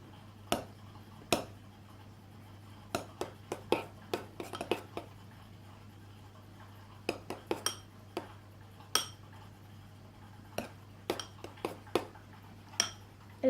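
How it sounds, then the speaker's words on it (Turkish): A utensil clinks and taps against a bowl while fluffy white shaving-foam slime is stirred, giving irregular sharp clicks in quick clusters over a faint steady hum, with no talking. "Evet, şimdi güzelce karıştırıyoruz."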